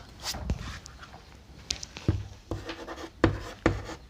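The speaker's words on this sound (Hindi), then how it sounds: "यहाँ पर ऐसे लिखता हूँ" Chalk or marker scratching across a classroom board during a chemistry lesson, a few short strokes and taps spread over a few seconds, fairly close and quiet, with no talking.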